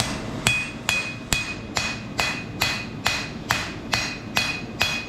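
Hammer blows on hot metal while an axe is forged at a smithy: eleven sharp ringing strikes at a steady, even rhythm, loud and close with no talking.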